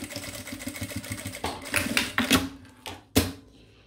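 Sewing machine stitching on a bag, a rapid rhythmic mechanical chatter that slows into a few separate louder clunks as it reverses for a backstitch at the end of the seam.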